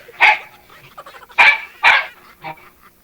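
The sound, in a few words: dogs barking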